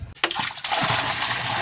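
Water poured into a hole for a stake while building a PVC water-pump well, a brief clatter then a steady gushing splash running continuously for over a second.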